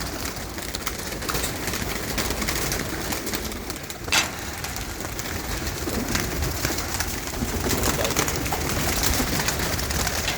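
Desi pigeons cooing among a flock, soft steady calls spread through the whole stretch with constant outdoor background noise and no talk.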